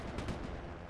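Player gunfire in a PlayStation video game demo, a brief burst of dense, loud, rumbling shots with sharp cracks early on, sounding close and continuous through the short moment.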